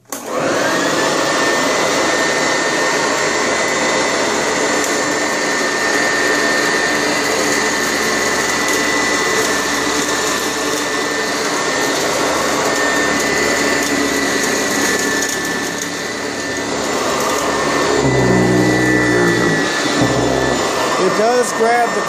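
Sanitaire SC886 upright vacuum cleaner running on a thin rug, a loud, steady motor roar close by with a brief shift in tone near the end as it grabs the carpet; someone speaks briefly over it.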